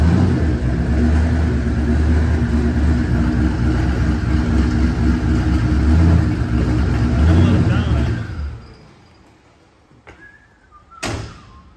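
A truck with a turbocharged LS 5.3 engine rumbles loudly and steadily near by, then drops away abruptly, leaving quieter background with a few knocks and voices.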